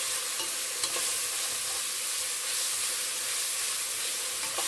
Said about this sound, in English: You can hear that sizzle, I bet.